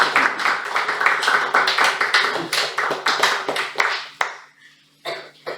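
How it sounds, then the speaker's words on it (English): Audience applause welcoming a speaker at a Toastmasters club meeting: a dense burst of many hands clapping close by, thinning and breaking into scattered claps near the end. "Let's welcome him with a huge round of applause"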